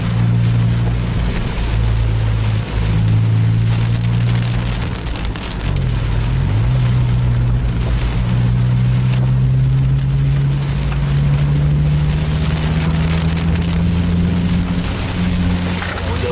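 Rain falls steadily on a sleeper bus, a dense, loud hiss of drops over the low, continuous drone of the bus engine, with no talking.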